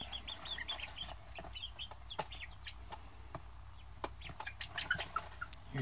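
Chickens cluck and chirp near the microphone in a farmyard setting, a scatter of short irregular calls over a low steady background hum.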